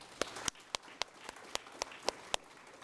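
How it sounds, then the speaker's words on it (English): Sparse, evenly spaced clapping from a small audience at a sports program event, about ten sharp claps at a steady rhythm, fairly faint and somewhat distant. "I want to give them a round of applause"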